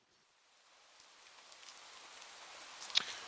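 Soft rain patters steadily, building gently from near silence into a continuous hiss, with one brief sharper drip near the end.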